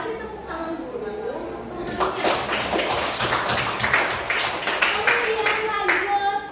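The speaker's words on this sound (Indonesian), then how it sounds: "Kasih tepuk tangan dulu" A classroom of students claps for a group that has just presented on Hokkaido, the dense clapping bursting in at about two seconds and continuing steadily after a stretch of quiet murmuring and voices.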